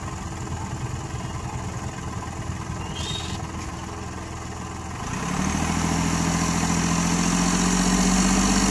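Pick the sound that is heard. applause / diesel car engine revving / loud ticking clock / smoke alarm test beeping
diesel car engine revving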